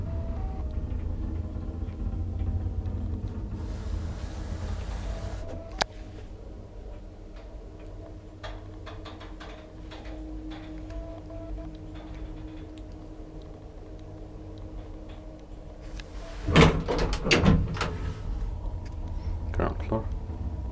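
An old Kone traction elevator in a Helsinki building runs with a low steady hum and rumble, faint ticking throughout, and a louder clatter of mechanism or doors near the end, with speech in the background.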